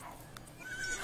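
Horse whinnying in The Sims 3, a brief, faint neigh with a rising tonal whine, heard alone and quietly within about a second.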